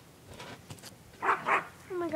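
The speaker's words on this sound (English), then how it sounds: "that's just my dogs" Dogs bark indoors in a couple of sharp, close bursts followed by a whimpering yip, with a person talking around them.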